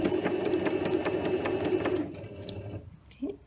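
A sewing machine stitches fabric on a beginners' sewing course, running in a steady rapid rhythm for about two seconds, then stopping, followed by a few faint clicks and handling sounds.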